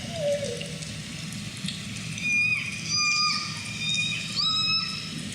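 Underwater orca calls from L-pod caught by a hydrophone: several short, high whistling squeals rise and fall over a low watery rumble, fairly faint and distant.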